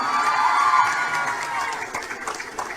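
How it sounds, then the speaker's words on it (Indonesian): Audience of santri and guests at an Islamic boarding school event in Cirebon cheers and claps for Nikita Mirzani, a loud mix of shouting, whoops and scattered applause rising as one crowd roar, with no talk over it. "Tepuk tangan untuk Nikita Mirzani."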